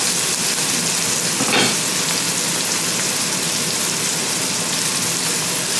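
Onion and garlic fry in a hot pan, a loud, steady sizzling hiss that holds constant throughout with no voices.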